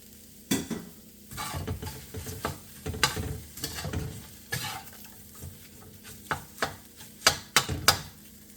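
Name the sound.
egg white tossed into sizzling fried rice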